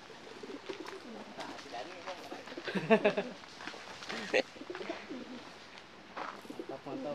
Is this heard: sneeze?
no